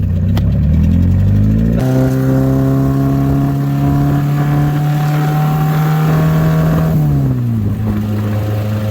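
An MG Midget's engine drones loudly and steadily as the small car pulls out and drives off, with the pitch shifting up and then dropping back near the end.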